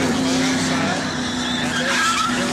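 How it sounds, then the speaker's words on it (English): Tires skid and squeal steadily as NASCAR race cars slide during a multi-car crash, a loud continuous screech over roaring engines, with a commentator talking over it. "But this crash is going to involve several cars."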